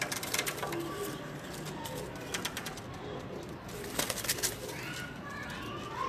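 Pigeons cooing softly in repeated low calls amid a constant background hiss and occasional chirps, fairly distant and faint throughout.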